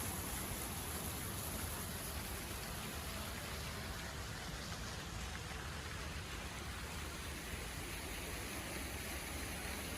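A waterfall at the Pragati Maidan expo grounds gives off a faint, unbroken hiss of rushing water, steady and even from start to finish.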